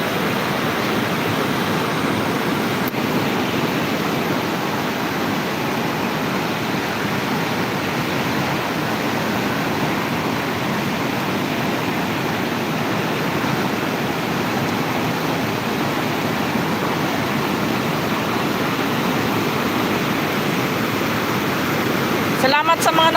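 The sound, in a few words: strong rushing overflowing floodwater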